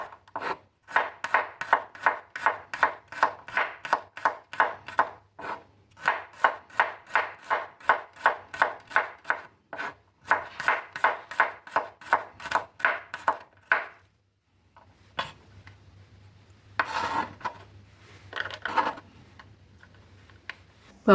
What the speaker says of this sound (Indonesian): 4 siung bawang putih, iris-iris tipis juga.